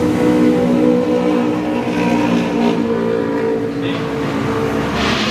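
Car tyres hum steadily on a rhythmic tar road surface, a continuous loud rolling drone with road noise filling the cabin throughout.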